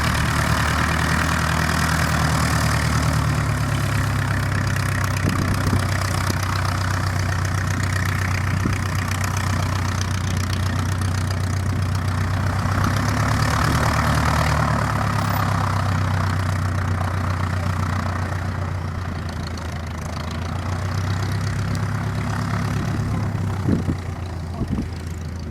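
A de Havilland Chipmunk light aeroplane's piston engine idling steadily at an airfield, a continuous low droning rumble with slight rises and dips in revs, heard from nearby over outdoor background noise.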